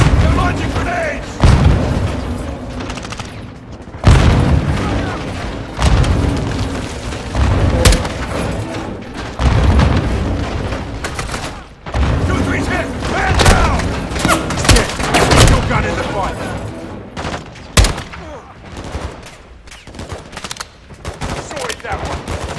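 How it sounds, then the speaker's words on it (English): Repeated loud booms of grenade explosions mixed with bursts of gunfire in a Call of Duty: Modern Warfare 2 firefight, with heavy impacts recurring every few seconds over a continuous battle din and some voices in between. "They're launching grenades!"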